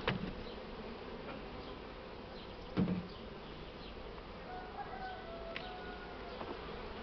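Honeybees buzz steadily around a hive while a swarmed colony is split, a dense, continuous insect drone with one louder close pass near the middle.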